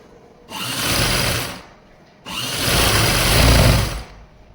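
A sewing machine stitches the seat panel of Afghani trousers in two loud bursts, a short run and then a longer one, separated by a brief pause.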